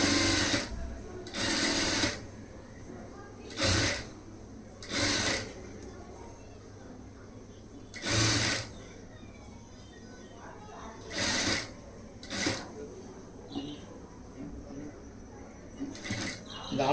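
A sewing machine stitches a blouse in short bursts of rapid mechanical whirring, several separate runs starting and stopping close by, with quiet gaps between them.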